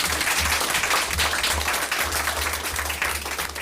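Audience at a school board meeting clapping steadily together, a dense continuous round of applause filling the room without speech.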